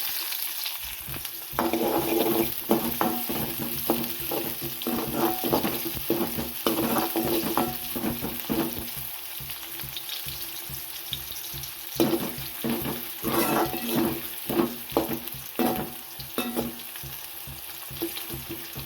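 Onion, fennel seeds and curry masala frying in hot oil for a Chettinad egg curry, with steady close sizzling and repeated stirring scrapes in the pan.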